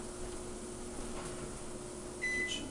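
A kitchen timer gives one short, sharp electronic beep near the end, cutting through a quiet, steady appliance hum on a stovetop cooking setup.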